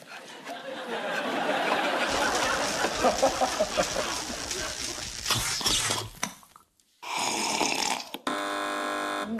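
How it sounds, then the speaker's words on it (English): Loud electronic quiz show buzzer tones sound after a stretch of noisy chatter and laughter from a TV panel show studio, with two sustained buzzes near the end. "Fingers on buzzers, teams."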